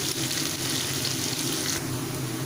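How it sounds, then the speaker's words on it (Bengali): Potatoes frying in hot oil over a raised gas flame give a steady, loud, dense sizzle that runs unbroken from start to finish, close up and with no voices. "ভালোভাবে আলুটাকে ফ্রাই করে নিতে হবে।"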